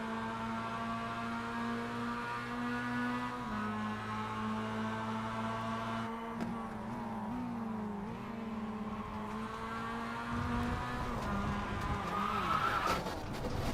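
A Mazda MX-5 Cup race car engine in iRacing roars continuously at high revs, pitch holding then dipping and climbing with throttle changes, loud and close, with a brief scrape near the end.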